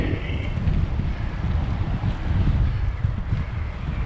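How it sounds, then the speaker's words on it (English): Steady wind buffeting the microphone on mountain bike trails in Andrew Brown Park, a continuous low roaring rumble that keeps going for the whole stretch without pause. "Ooh, this is windy"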